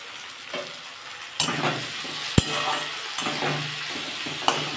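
Beto shak greens stir-fry in a pan, a low steady sizzle broken by several sharp scrapes and clinks of the spatula against the metal, close and moderately loud.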